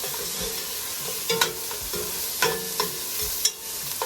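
Onions and dried oregano tossed in a hot pan for chili paste, a continuous sizzle broken by regular scraping stirs about once a second, close and fairly loud.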